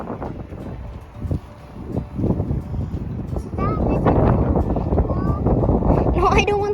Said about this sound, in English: I'm cold. It's windy.